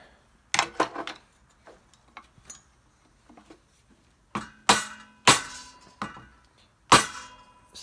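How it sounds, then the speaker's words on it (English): Sharp metallic whacks on the flywheel cover of an abandoned generator, a scattering of lighter taps followed by four loud, ringing blows at roughly one-second intervals, close by with no talk. "Give this a couple good whacks."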